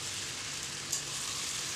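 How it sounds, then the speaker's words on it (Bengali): Chickpeas and spices frying in a pan, a close, continuous hissing sizzle with a faint clink partway through. "দেখো ভালো করে নেড়ে নিচ্ছি, ভালো করে সব কিছু ভাজা ভাজা করে নিচ্ছি।"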